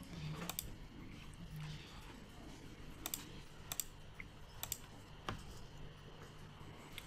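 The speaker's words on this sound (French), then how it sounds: "La barre d'espacement enfoncée seule sur le clavier." A computer keyboard space bar is pressed alone in a quiet room, giving a handful of sharp, isolated clicks spaced irregularly apart, close and fairly soft.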